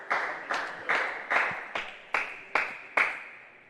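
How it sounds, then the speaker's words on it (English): A table tennis match audience claps in a steady rhythm, about eight even claps spaced roughly half a second apart, fairly close and moderately loud with little else around. "Crowd getting into it now."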